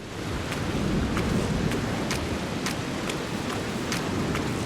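Heavy rain pours in the video game No One Lives Under the Lighthouse, a dense, continuous hiss with faint, regularly spaced thuds running through it.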